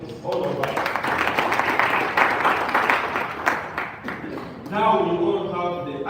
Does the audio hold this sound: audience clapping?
yes